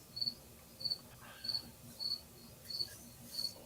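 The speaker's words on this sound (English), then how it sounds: "it's crickets, and they're part of the community now" Crickets chirp in a quiet night setting, six short evenly spaced trilling bursts at a steady rhythm, faint and close, with no voices.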